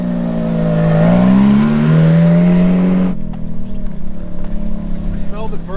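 A Ferrari F430 V8 revs hard and loud nearby, a rising, wavering engine howl that swells over three seconds and then suddenly drops away to a lower rumble, with people talking over it.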